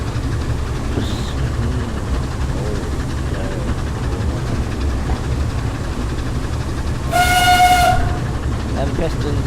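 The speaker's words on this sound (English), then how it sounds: "Them pistons are pumping" A pannier steam locomotive on a simulated seaside railway in Train Simulator 2017 rumbles steadily with a chuffing, clattering beat. A loud whistle blast comes near the end.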